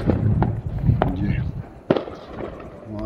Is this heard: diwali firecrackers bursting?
yes